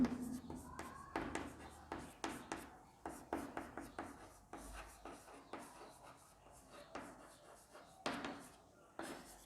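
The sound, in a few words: writing on the board in red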